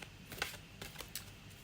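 Tarot cards are shuffled by hand in a few quick, soft riffling bursts, quiet and close, with small gaps between the flurries.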